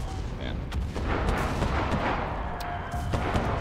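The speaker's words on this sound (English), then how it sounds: "For me, it's like the gunfire is like really loud." Repeated gunfire and explosions in the video game Enlisted, Pacific War campaign, loud sharp shots scattered irregularly over a dense battle rumble, close and intense.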